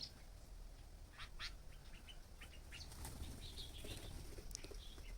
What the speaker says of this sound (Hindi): ट्रिपाई को उड़ा दिया मैकपाई ने।